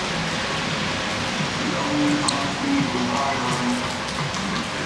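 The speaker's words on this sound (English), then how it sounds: "It is raining, so I'll have to keep my camera under the umbrella" Steady rain falling outdoors in Yalta, Crimea, a broad even hiss of drops on surfaces that is close and continuous, with faint tonal sounds in the background.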